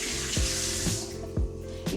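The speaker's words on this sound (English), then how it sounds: "Just wash my hands." Hands sticky from pizza dough are rinsed under a running kitchen tap. Water pours steadily and close by, and the splash shifts a few times as the hands move through the stream.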